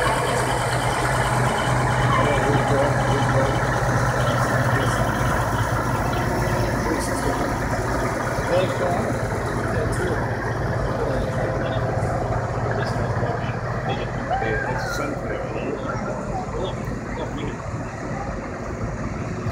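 A John Deere 9530 tractor rated at 475 horsepower runs with a loud, steady diesel rumble close by, holding an even low drone throughout.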